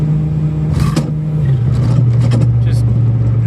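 A 1994 Suzuki Cervo SR drives with its engine holding a steady mid-pitched drone inside the cabin while accelerating. Bumps and rattles come through, and a voice talks over part of it.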